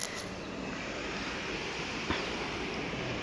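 A river rushes past in a steady, unbroken wash of flowing water, loud and close, with a slight wind-like hiss and no voices.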